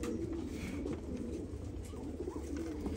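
Akbaş pigeons coo softly, a series of low, throaty warbling calls repeating under a steady background hum, fairly close and alone without talk.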